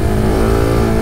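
A Suzuki DR 350 motorcycle engine runs loud and close with a steady, throaty drone as the bike takes a road corner supermoto-style.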